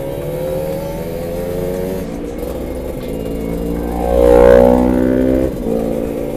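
Kawasaki Ninja two-stroke motorcycle engine revving close by, a steady buzzing idle that swells into a louder throttle blip around the middle before dropping back, with no talking.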